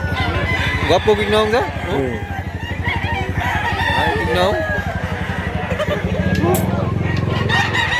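Roosters crow repeatedly over steady clucking from chickens at a Mantalungon, Cebu poultry area, loud and close, while people talk over the birds.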